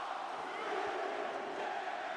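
A dense arena crowd roaring and cheering in the WWE 2K24 wrestling game, a steady, sustained wash of voices at moderate level with no break.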